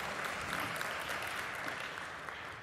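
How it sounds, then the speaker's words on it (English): Audience applause at an engineering symposium, a dense, even wash of clapping from many hands, moderately distant and steady throughout. "A big round of applause once more for Mr."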